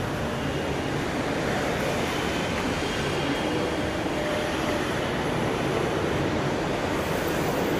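Steady, loud rumble of a Kochi Metro train in motion, heard from inside the carriage as a continuous broadband roar with no voices across the whole ride segment.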